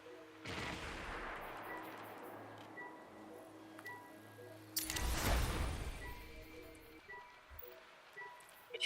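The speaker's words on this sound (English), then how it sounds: "This is a better rifle." Rifle gunfire from the video game Destiny comes in two bursts, the first a short volley and the second a louder, denser burst of rapid shots, with quieter game ambience between them.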